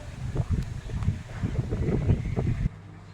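Strong wind gusts buffet the microphone outdoors on a rainy day, a loud rumbling rush with uneven swells that drops away abruptly near the end.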